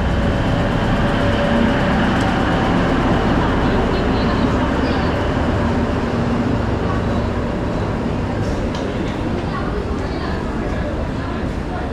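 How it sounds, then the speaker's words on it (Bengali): Train arriving at a station on the route to New Jalpaiguri: a loud, continuous roar of moving carriages that fills the whole stretch, with a faint murmur of people underneath. "আর দেখতে দেখতে কিছুক্ষণের মধ্যেই উপস্থিত হয় আমাদের ট্রেন"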